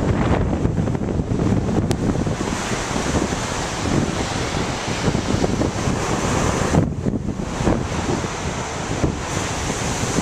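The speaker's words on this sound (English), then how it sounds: "I'll go ahead and give you guys a look at the beach." Beach surf at Rodanthe on the Outer Banks, with waves rushing continuously under heavy northeast wind buffeting the microphone, loud and unbroken throughout.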